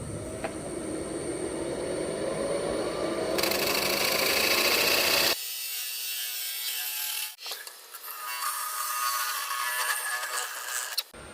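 A plywood box lid being cut on a wood lathe: a loud, steady whirring and scraping drone of the tool against spinning plywood. It drops sharply midway, then a lighter rasping hum continues at close range.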